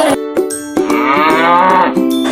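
A cow in a 3D animated story gives a loud, close moo of about two seconds, drawn out and rising slightly, preceded by a couple of short clipped lows, with no voices.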